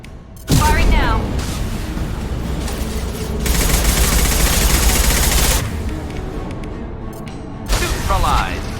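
Sustained bursts of weapon fire in the Mass Effect 2 video game crackle loudly for several seconds with heavy booms, pausing briefly and resuming in another close burst.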